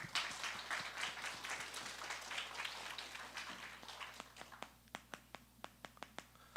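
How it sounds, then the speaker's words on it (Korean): A high-school youth congregation at a Seoul church applauds during a Sunday service. The dense, faint clapping fades out, leaving a run of scattered single claps at the end. "우리 좀 더 크게 하나님께 영광의 박수를 올려드립시다."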